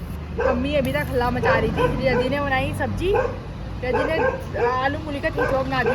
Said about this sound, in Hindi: मतलब भौंक रहा है, एक वहाँ भौंक रहा है, एक यहाँ भौंक रहा है।